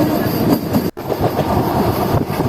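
A Rampurhat-Andal MEMU train runs fast, a loud continuous rattle and rumble of wheels on track heard from on board, broken by one sharp momentary dropout.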